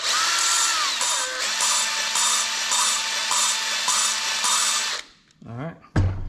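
Cutting tool spinning against a valve seat in a Honda ATC cylinder head: a loud, steady whirring grind with faint pulsing for about five seconds, stopping abruptly, followed by brief squeaky scraping sounds.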